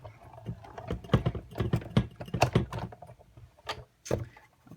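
A die-cutting machine is cranked by hand as it cuts through layers of card stock, giving a series of irregular close clicks and thumps with short pauses between them.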